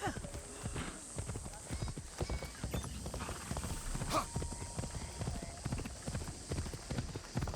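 A horse's hooves clip-clop at a steady trotting rhythm in Assassin's Creed Shadows, close and continuous throughout, with someone talking over it.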